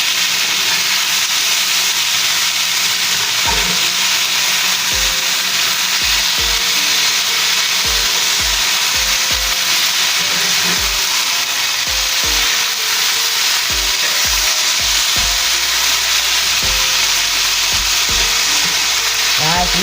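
Southern-style sautéed potatoes sizzle loudly and steadily in a hot pan, with a spatula repeatedly scraping and clacking against the metal as they are flipped over.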